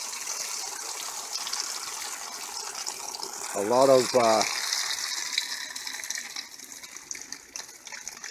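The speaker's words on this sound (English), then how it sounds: "you drain that let that drain completely out" Water gushing from the drain of a 10-gallon water heater on a 2005 Keystone Retreat RV during winterizing: a steady outdoor rushing flow, close and continuous, with someone talking briefly over it.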